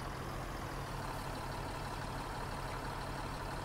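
A combine harvester engine in Farming Simulator 19 drones in a steady, unbroken hum with a low rumbling rattle. It stays even and constant throughout, fairly quiet, with no talking.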